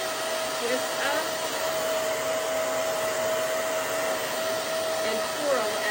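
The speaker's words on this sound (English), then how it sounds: "Still drying the roots, okay?" A hair dryer blows with a steady, loud whir as it dries the roots of a woman's hair. The airflow holds an even drone throughout, close to the ear and alone.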